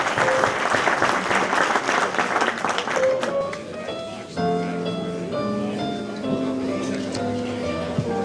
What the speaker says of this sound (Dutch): een applaus voor de winnaars